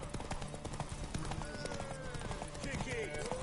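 Rhythmic clip-clop of a horse's hooves trotting along in The Witcher video game, under a voice talking, with background music and game ambience.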